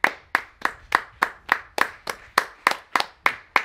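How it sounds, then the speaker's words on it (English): Twelve or so sharp hand claps ring out at a steady, even pace, about three per second, close and crisp with no talking over them. "What, my big clappy hands?"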